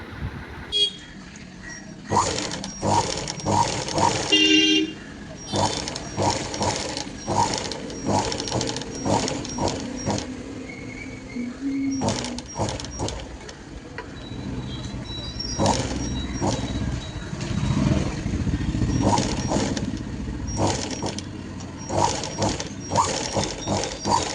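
Domestic sewing machine stitching the front neck design of a blouse, running in repeated short bursts of rapid mechanical clatter with brief pauses between, close and fairly loud throughout.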